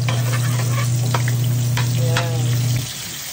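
Garlic and onion sauté in a hot pan for ginisang togue, a loud steady sizzle with a low hum beneath, a few stirring scrapes near the end before the sizzle drops off.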